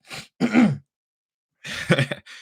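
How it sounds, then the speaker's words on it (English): Someone clears their throat a few times in short, rough bursts, separated by a pause of silence. "Let me just clear my throat."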